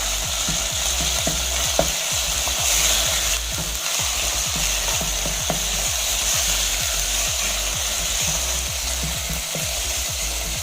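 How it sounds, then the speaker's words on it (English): Minced beef frying in a pot with browned onions for a minced meat stew, a loud continuous sizzle under rapid, rhythmic scraping stir strokes that repeat steadily throughout, close and without talk. "now I'm going to add in my meat, my minced beef. And we're going to give this a good stir."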